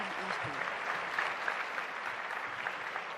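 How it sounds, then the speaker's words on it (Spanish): Audience applause at a conference talk on the internet of things welcoming speaker Kevin Ashton, a steady faint wash of clapping across the whole short stretch. "Aplauso para él, por favor."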